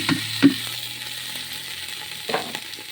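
Onion, garlic and green chili frying in a pan, a steady soft sizzle with a few sharp clinks of a spoon against the pan.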